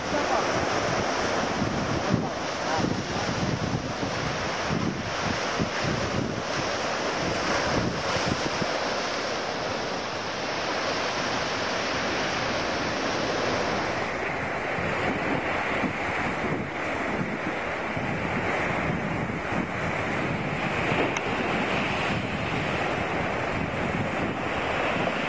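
Steady broadband roar of surf and wind at the Beach of Cathedrals in Galicia, Spain, a continuous wash of breaking waves with breeze buffeting the microphone, loud and unbroken throughout.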